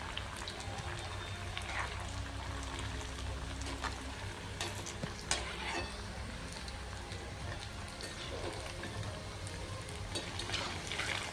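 Steady crackling sizzle of batti dough frying in hot oil, continuous and fairly close, with faint kitchen clatter and no speech over it.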